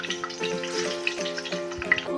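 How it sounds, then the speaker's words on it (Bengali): Dhoka lentil cakes fry in hot oil in a kadai over a low gas flame, a steady close sizzle with small bubbling pops and crackles throughout. "এখন গ্যাসের আগুনটা অল্প আঁচে দিয়ে আমি এই বড়গুলো ধোকাগুলোকে দিয়ে দেবো"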